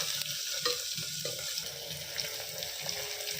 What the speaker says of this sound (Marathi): मंद आचेवर त्याला थोडे सर्व इन्ग्रेडियंटला तळून घ्यावे.